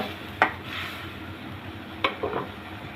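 Shrimp frying with spices in a pan for a vegetable-stem curry make a soft steady sizzle, broken by a few close scraping clicks of a spatula stirring against the pan.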